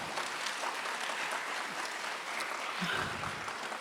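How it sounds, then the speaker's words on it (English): An audience applauds a varnam piece at a Bharatanatyam arangetram, a sustained, even roar of many people clapping throughout with no voices above it. "I would like for you all to give another round of applause for the varnam."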